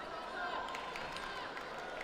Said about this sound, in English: you could hear the crowd beginning to cheer in anticipation of what was coming